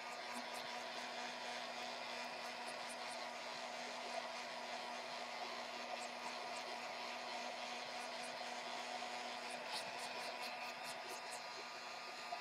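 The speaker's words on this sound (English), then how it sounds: "So I'm going to blow dry this layer a little bit." A hair dryer blows steadily on a layer of matte medium spread on a canvas, a constant close whooshing hum that holds without pause, with no voices over it.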